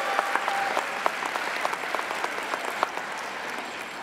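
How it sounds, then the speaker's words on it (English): A crowd applauding at a 2023 high school graduation ceremony, steady dense clapping throughout with some sharper individual claps standing out. "Let's give them a round of applause"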